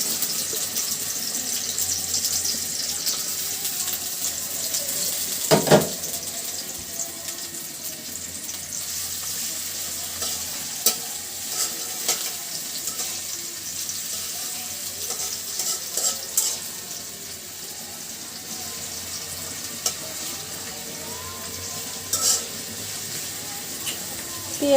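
A handful of onions frying in soybean oil in a wok makes a continuous low sizzle, broken by occasional scrapes and clanks of stirring, with a voice talking now and then.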